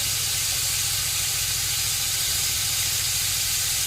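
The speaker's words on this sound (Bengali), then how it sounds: "তেলটা গরম হয়ে গেছে এখন দিয়ে দিচ্ছি টমেটো পেঁয়াজ আর কাজু" Tomato, onion and cashew hit hot oil in a pan alongside bay leaf, producing a loud, continuous sizzle close by that stays even from start to finish, with no talking.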